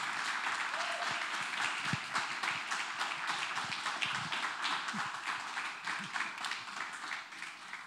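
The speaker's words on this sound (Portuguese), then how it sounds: "aplaudindo a Jesus pela vida dele" A church congregation claps together in a long, full round of applause, many hands beating in a thick, steady patter that thins slightly toward the end, with faint voices underneath.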